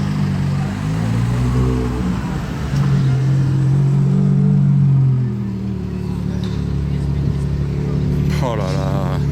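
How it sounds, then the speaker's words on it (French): A Ferrari Monza SP2 rolls in with a steady, close engine rumble that swells briefly as it passes, while a voice talks over it. "La Monza SP2 qui arrive dans tout ça."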